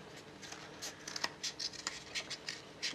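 Scissors or a blade snip through a thick cake tube while a section is cut for a mini castle cake, giving a series of short, crisp, close cutting clicks in an irregular rhythm, quiet and without speech.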